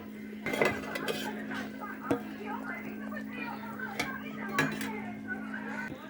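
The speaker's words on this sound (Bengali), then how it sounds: "এইবার ঢাকাটা উল্টে আমি একটু দেখে নেবো আলুটা সেদ্ধ হয়েছে নাকি।" A metal lid lifted off a pot of spicy duck egg curry with potatoes, giving several sharp clinks and clatters of cookware over a steady background hum.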